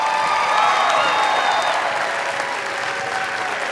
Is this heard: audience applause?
yes